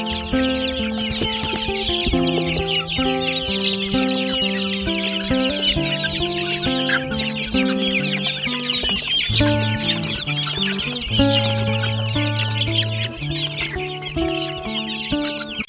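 Many chickens cluck and chatter continuously, a busy flock sound close by with overlapping calls and steady background noise.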